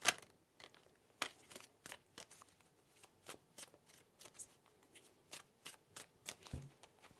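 Tarot cards being shuffled by hand produce a rapid series of crisp, close riffling snaps and flicks in irregular bursts, fairly faint, in a quiet room.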